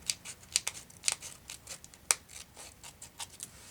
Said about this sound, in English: I've got my scissors just slightly under the fold line